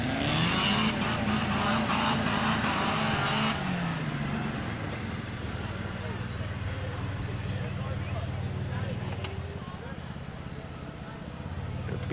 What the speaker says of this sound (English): B-class truck trying to get around the corner with no steering brakes.